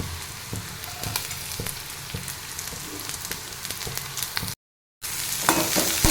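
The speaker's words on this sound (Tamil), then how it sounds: "பீன்ஸ் போட்டு ஒரு ரெண்டு வதக்கி அடிக்கலாம்" Green beans sautéing in a pan alongside vegetables, giving a dense, continuous close sizzle with occasional stirring clicks, briefly cutting to silence before the frying resumes, louder and brighter.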